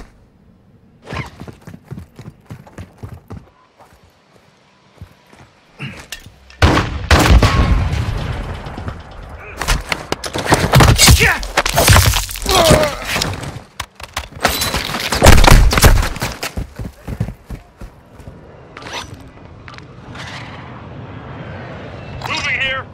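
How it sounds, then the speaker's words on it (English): Bursts of gunfire and heavy thuds in a Call of Duty Modern Warfare II DMZ firefight, with loud volleys clustered in the middle and near the end, mixed with game radio chatter and player voices. "You are taking effective fire."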